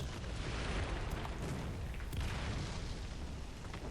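Tank shells fired by enemy AI in the War Thunder video game landing nearby, a continuous rumble of deep booms and blasts merging into a heavy, muffled barrage with no voices.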